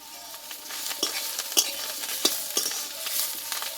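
Kolmi greens with salt and turmeric being stirred in a pan, a moist sizzle broken by sharp spatula scrapes and taps against the metal at irregular intervals.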